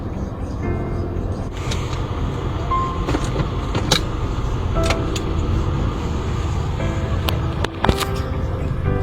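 Nissan Sylphy sedan on a test drive, a steady low cabin road and engine hum with occasional clicks and knocks from inside the car, someone talking over it.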